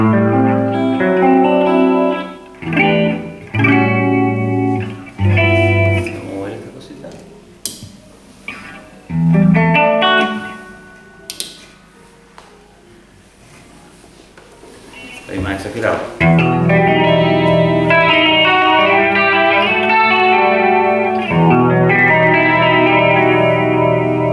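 Electric guitar played through chorus and distortion effect pedals, chords ringing out loud with a swirling, shimmering tone, broken into phrases with a quieter gap midway before sustained distorted strumming.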